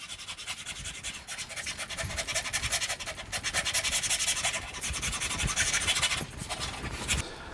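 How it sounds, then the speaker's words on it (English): Wood rasps and files shave down a scratch-built guitar headstock, a continuous rough scraping in back-and-forth strokes, close and moderately loud. "I'm just going to take my rasps and my files and take this off"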